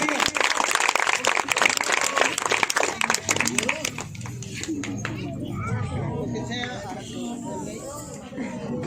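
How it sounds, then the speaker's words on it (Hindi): Clapping and cheering from a church congregation at a Christian holy wedding ceremony, loud and dense at first, then thinning out as chatter and voices take over. "प्रभु के लिए जोरदार ताली बजाएंगे"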